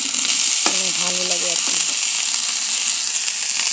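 Cauliflower frying with turmeric in a kadai, a continuous bright sizzle throughout with a brief spoken phrase near the start.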